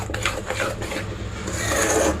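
Semolina soaking up sugar syrup as it is stirred in a pan for an anjeer chocolate sweet, a continuous close scraping and squelching stir with slight rhythmic pulses, with no talking.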